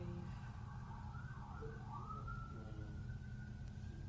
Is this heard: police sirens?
yes